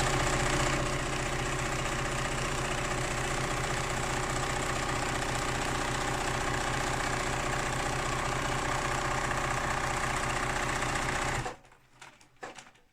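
A sewing machine stitches the seam of a simple tote bag, running at a steady, loud, continuous whirr for several seconds before stopping abruptly, followed by a few faint handling knocks.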